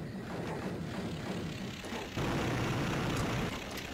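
Propeller planes in the war game Walker drone steadily throughout, a dense low engine rumble that swells louder partway through and holds, with no voices.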